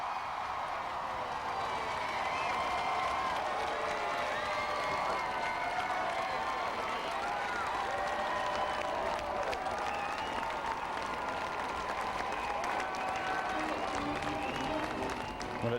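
A large Prague crowd applauds and cheers after Barack Obama's speech, a sustained dense roar of clapping with scattered whoops, steady and loud throughout.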